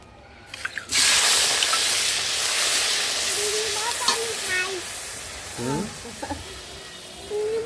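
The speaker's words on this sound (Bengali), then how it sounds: "এই তেলে চিংড়ি মাছ ভেজে নেব।" Prawns frying in hot oil that was just used for fried lentil dumplings: a loud, steady hiss and sizzle that starts abruptly and continues close by, with a faint voice murmuring underneath.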